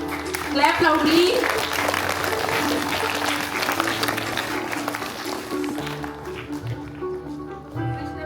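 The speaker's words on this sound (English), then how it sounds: "Clap loudly." Audience clapping at a school Founders Day award ceremony, a busy patter of hands that swells early and then thins, with music and voices carrying underneath.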